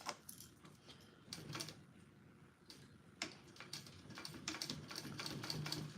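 Sewing machine stitching a tote bag at a medium stitch length, faint bursts of rapid ticking needle strokes in short runs separated by pauses, heard close and alone with no speech.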